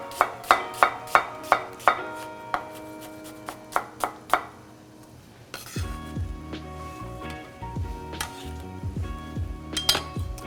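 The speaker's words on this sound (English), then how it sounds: "we're just going to go for a nice, easy slice" Knife slicing an onion on a cutting board in a kitchen, a run of crisp, evenly spaced chops close by, followed by quieter clatter of kitchen utensils and ringing metal.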